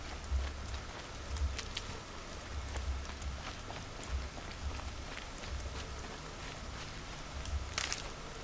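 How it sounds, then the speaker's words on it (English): Rainfall in the video game Horizon Zero Dawn, a steady wash of patter with soft thuds and occasional footstep-like steps, continuous and moderately loud throughout with no talking. "Rain's not so bad."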